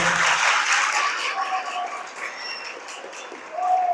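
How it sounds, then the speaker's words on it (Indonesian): Applause from the audience at an organisational seminar, a dense broadband clatter of clapping hands filling the room throughout, swelling again near the end. "tepuk tangan dulu untuk kalian"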